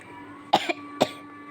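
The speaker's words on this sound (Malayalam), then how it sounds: "ചുമയുണ്ട് കേട്ടോ." Two short coughs from one person, the first a sharp burst with a small follow-up and the second a single cough about half a second later, close and fairly quiet against a faint steady hum.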